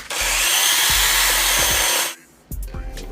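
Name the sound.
power drill boring a hole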